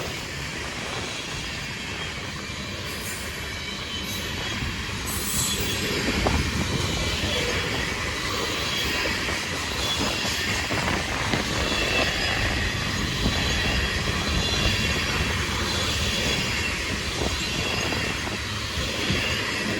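A long grain freight train rumbles steadily past nearby at Depew station, wheels clattering and squealing on the rails, with a continuous roar that holds throughout.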